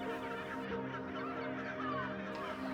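Seagulls on the Konkan coast give faint, scattered calls over a steady tonal hum, soft and distant throughout the short stretch.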